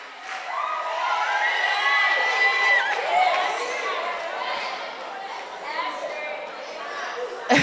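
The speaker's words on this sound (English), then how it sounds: "Give a round of applause." A crowd at a mentorship session erupts in cheering and excited shouting, with voices including children's overlapping in a loud, sustained roar that swells and then tapers off.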